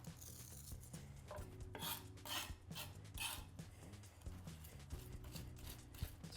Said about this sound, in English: 6 cloves of garlic. Run the knife through that.